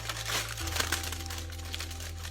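Paper or foil edges being folded over to the back of a cardboard-backed robot relief sculpture, giving soft continuous crinkling and crumpling close by, steady throughout over a low hum.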